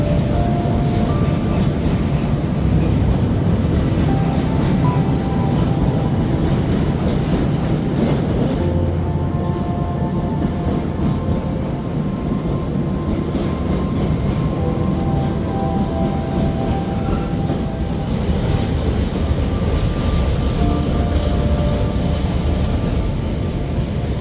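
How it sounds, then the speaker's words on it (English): A train rolls across a bridge directly overhead above a boat drifting beneath it on a Texas bay near Galveston, producing a loud, continuous rumble and clatter that never lets up. "And here is us drifting under as a train rolls overhead."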